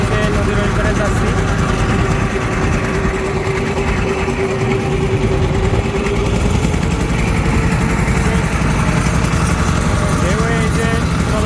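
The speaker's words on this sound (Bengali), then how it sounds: "এই যে ট্রলারটা লড়ছে, দেখেন দ্রুত গতিতে চলছে।" Trawler boat engine running fast while crossing a wide river, a loud, steady droning chug that continues without pause, with water wash mixed in.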